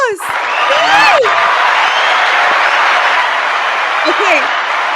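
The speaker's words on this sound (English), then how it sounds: "applause. Yay!" A live audience at a Canadian-themed show applauding and cheering, a loud sustained wash of clapping with whoops and shouts, and a voice cutting in briefly at the start and near the end.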